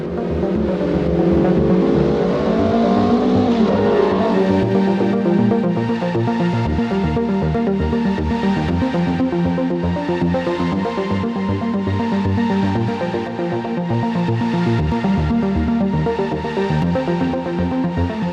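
A racing car's engine fires up and revs hard as it pulls out of the garage, a loud rising buzz that settles into a sustained high engine drone over the whole stretch.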